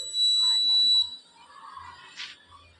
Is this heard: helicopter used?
no